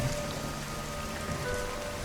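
Steady rain patters on surfaces through the night, a constant soft hiss of drops that holds evenly throughout.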